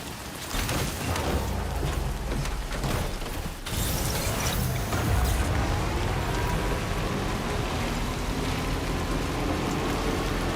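Steady rain in the video game Death Stranding 2 hisses continuously, mixed with mechanical clicking and whirring, with a sudden shift in texture partway through and a rising tonal hum later on.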